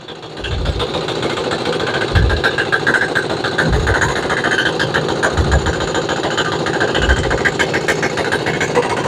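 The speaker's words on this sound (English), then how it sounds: "I'm gonna crank her up and see if we can't roll some coal. See what this thing does wide open." A small Chinese 168F single-cylinder diesel engine runs on homemade diesel fuel, a steady loud rattling drone with periodic low thumps as it is revved, close up with no talking.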